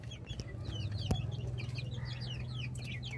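Fayoumi roosters cluck and chatter in a backyard flock, with quick repeated calls over a steady low hum and a single sharp knock partway through.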